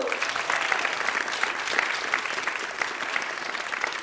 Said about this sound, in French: applaudissez Théo